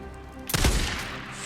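A single sharp gunshot cracks out after a quiet stretch, followed by a short rumbling tail in the video game Days Gone.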